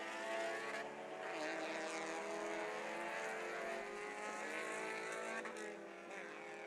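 Race cars sweep through the turns of a circuit with a sustained, high engine whine whose pitch shifts slightly as they pass; the sound is fairly faint and steady, with no talk.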